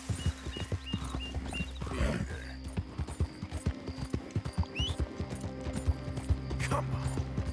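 Horse hooves clip-clopping in the video game Red Dead Redemption II, a steady rhythmic trotting gait close by, with a brief whinny and ambient game sounds layered in.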